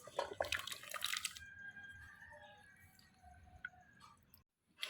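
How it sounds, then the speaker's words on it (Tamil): Jamun fruit being washed in water: soft splashes, drips and small clicks from handling the fruit, busiest at the start, then quieter trickling before a brief silence near the end. "இப்போ இதை வந்து நம்ம நல்ல தண்ணியில் போட்டு கழுவி எடுத்துக்கலாம்"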